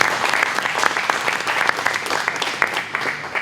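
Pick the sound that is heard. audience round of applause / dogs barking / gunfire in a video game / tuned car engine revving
audience round of applause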